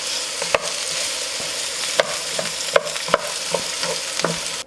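Chicken slices stir-frying with onions in a hot pan, a steady close sizzle broken by sharp scrapes and clacks of a utensil every second or so, with no talking.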